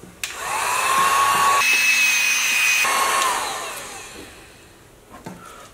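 A heat gun or hair dryer blows steadily close by as it heats a vinyl decal on car paint, a loud whooshing motor hum with a shifting whine that swells, holds and then fades out.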